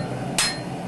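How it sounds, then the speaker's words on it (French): A single sharp hammer strike rings out on a sword blade's edges being forged, a bright metallic clang standing out over steady workshop noise. "tranchants sont ensuite forgés au marteau"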